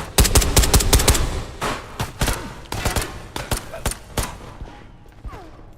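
Rapid bursts of gunfire in the VR shooter Ghosts of Tabor, sharp shots in quick clusters, loud and close at first, then more scattered single cracks trailing off.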